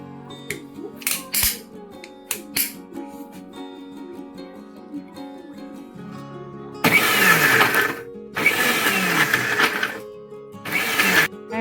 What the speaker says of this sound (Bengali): তারপর ব্লেন্ড করে দেবো।